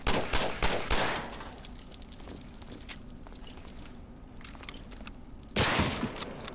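Gunfire in the World War II shooter Medal of Honor: Allied Assault, with a volley of sharp shots at the start, a quieter stretch of sparse hits, then another loud burst near the end.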